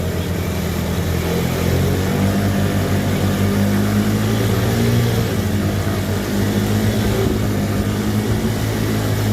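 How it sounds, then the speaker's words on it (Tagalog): Motorcycle engine droning steadily as the bike pushes through deep floodwater on a flooded street in Barangay Kinalansan, San Jose, Camarines Sur, with a continuous loud low rumble and broadband wash throughout. "tingnan natin kung makaliban po yung ating motor"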